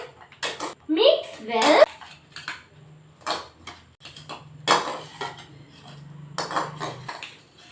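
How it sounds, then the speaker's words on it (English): Aloo chaat ingredients mixed in a bowl: a spoon clinks and scrapes against the dish in short bursts, with quiet voices in between. "Now again mix the all ingredients."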